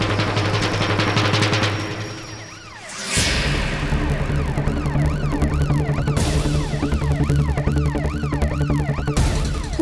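An ambulance siren wails loudly and close, its rising and falling sweeps repeating steadily after a brief dip, with a vehicle engine rumbling underneath.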